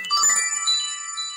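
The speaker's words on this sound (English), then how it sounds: "that was just my phone that went off" A mobile phone goes off with a short bright chiming ringtone, a quick burst of tinkling tones that then rings on steadily in a quiet room.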